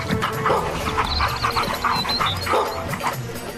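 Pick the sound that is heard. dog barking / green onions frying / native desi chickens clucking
dog barking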